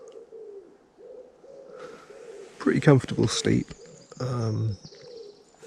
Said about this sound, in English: A few birds.